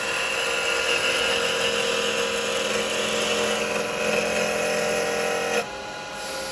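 A spindle gouge takes a finishing cut on wood turning on a lathe, a steady, close, continuous whir and hiss of shavings that holds even for several seconds before easing off near the end.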